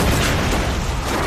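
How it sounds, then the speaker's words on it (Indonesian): A short, dense burst of loud rumbling noise with heavy low-end from a boat exploding, sustained and roaring throughout. "kapal mereka pun meledak"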